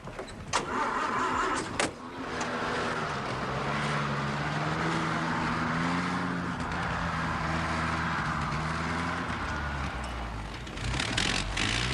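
An old wartime army truck starts up and pulls away, its engine turning over, then revving and labouring through gear changes for several seconds, loud and close with a steady rumble.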